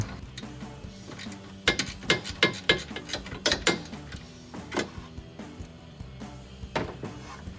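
A hand ratchet clicks rapidly in quick bursts while backing out two 10 mm bolts from a car headlight assembly. The clicks are close and moderately loud, with brief pauses between runs.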